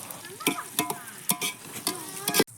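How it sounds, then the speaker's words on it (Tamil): Onions, green chillies and whole spices sauté in hot oil in an outdoor village pot for biryani, with repeated stirring scrapes and bursts of sizzle recurring in short strokes, close and moderately loud. "எண்ணெய் ஊற்றி நல்லா காய்ச்சி உடனே ஓல் ஸ்பைசஸ் வெங்காயம் பச்சை மிளகா போட்டு நல்லா வதக்கி விடணும்"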